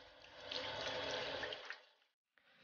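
Tap water runs steadily over blanched pork tongue in a kitchen sink, a soft hissing splash that cuts off briefly and then resumes, quiet and close.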